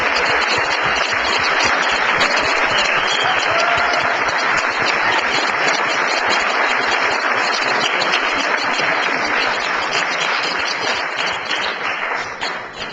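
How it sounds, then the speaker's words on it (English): A room at a city council meeting breaks into loud, sustained applause lasting many seconds, then tapers slightly near the end. "Please join me in a round of applause for Tia"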